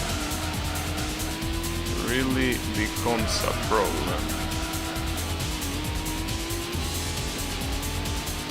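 A very fast car racing and cornering in Gran Turismo, with a steady high engine drone, tyre squeal through the corners and someone talking over it.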